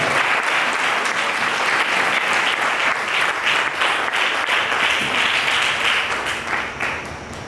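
A church congregation applauding together, dense loud clapping that holds steady throughout and fades slightly at the end.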